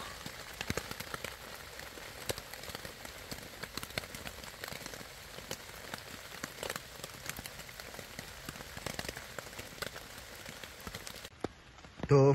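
Steady rain patters densely on a tent during a forced rest day on a long-distance hike along the Via Francigena GR145, with scattered louder drops over a continuous hiss that cuts off near the end.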